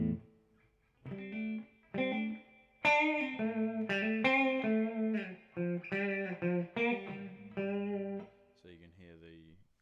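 Clean guitar tone from a Tubemeister 36 tube amp set to 18 watts with reverb, switched via a Line6 Pod HD500: a series of strummed chords and ringing notes, moderately loud, with short gaps and a final chiming passage.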